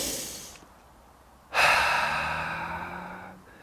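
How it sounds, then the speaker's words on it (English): A single deep breath is drawn close to the microphone: a soft inhale, a pause, then a long, fairly loud airy exhale that slowly fades. "Let's all take a deep breath now."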